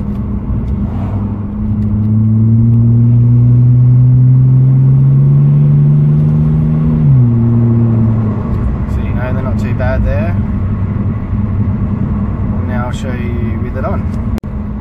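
A turbocharged Ford BA XT Falcon drives along, its engine droning and rising in pitch before dropping sharply as it shifts gears, then settling into a steady road rumble with faint clicks later on.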